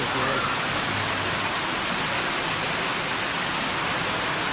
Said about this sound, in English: Impressive footage of the storm in Paris a few minutes ago.